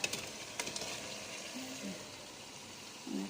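Already-fried fish going into a spice masala in a pan, a faint steady sizzle with a few clinks of utensils at the start and a voice speaking briefly over it.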